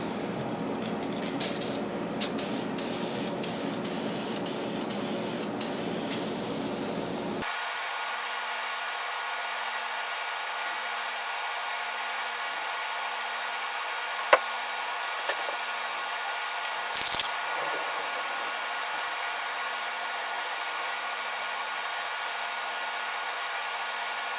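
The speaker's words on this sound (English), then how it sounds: "I'm going to spray a coat on the back first." Polyurethane finish is sprayed in a steady, close hiss for several seconds, followed by a lower, constant hum with a few faint clicks.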